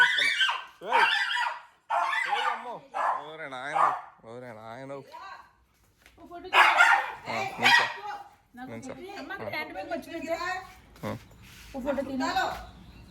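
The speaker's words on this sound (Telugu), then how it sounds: "కుక్కకి పౌరుషం ఎక్కువైపోయింది" A dog barks and yips in short bursts among people talking nearby at home, with whining, wavering calls between the louder barks.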